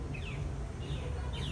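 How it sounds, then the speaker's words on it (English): Birds chirping among the trees and intricate bird houses at Animal Kingdom: three short high chirps spaced across the moment, moderately distant, over a steady low ambient hum with no talking. "This is typically where you can see a ton of unique birds and the trees."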